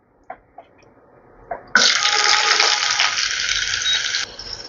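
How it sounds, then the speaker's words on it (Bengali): Diced potato hits hot oil with cumin and dried chilli after a few light taps, then a loud, close, broadband sizzle holds steady for a couple of seconds before easing down to a softer fry. "আলুটাকে একটু লালচে করে ভাজতে হবে।"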